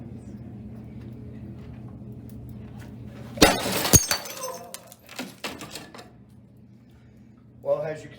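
A sharp hammer strike shatters non-tempered double-pane window glass, followed by a second crack and scattered tinkling of falling shards against a quiet background hum.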